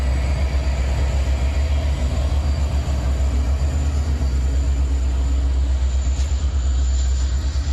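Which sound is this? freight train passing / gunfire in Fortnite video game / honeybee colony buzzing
freight train passing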